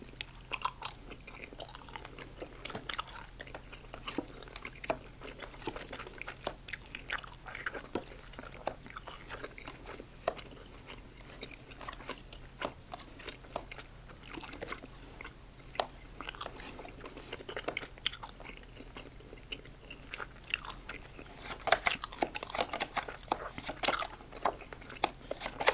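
Close, wet gum chewing with soft clicks and smacks of the mouth, repeating steadily for a long stretch at low volume, with occasional louder crunchy bites near the end.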